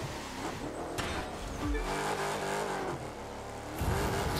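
A Chrysler 300 SRT8 limousine on a race track in The Crew 2, its engine droning and revving steadily, with pitch dropping on a gear shift and climbing again under acceleration.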